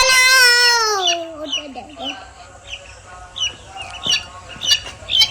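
Guinea fowl calling outdoors on a farm, a loud harsh squawking cry at the start sliding downward, followed by scattered shorter clucks and chirps from nearby birds.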